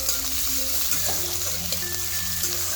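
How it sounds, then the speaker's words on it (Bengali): Chopped medium onion frying in hot oil while being stirred for a potato-stuffed kachori filling, a constant close sizzle with faint scraping of the stirring. "কুচি করে আমি দিয়ে দিচ্ছি ওই তেলের মধ্যে। পেঁয়াজটাকে অল্প নাড়াচাড়া করে নেব।"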